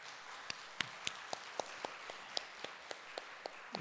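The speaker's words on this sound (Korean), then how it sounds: "저 뒤에 있는데 뜨거운 축하의 박수 한번 쳐드리겠습니다." A single pair of hands claps slowly and evenly at a Sunday church service, about a dozen sharp, distinct claps over a quiet room, with no thick crowd applause building beneath them.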